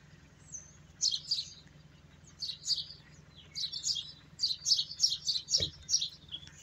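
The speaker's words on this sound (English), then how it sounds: "There's a bunch of birds up there." Several birds chirp in repeated short bursts, perched high on an old church building in a small Illinois town along Route 66, fairly close and moderately loud, with quiet background hum and one brief low thump.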